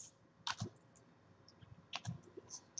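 Keys on a computer keyboard clatter in short bursts as an equation is typed, with quiet pauses between the clusters of taps.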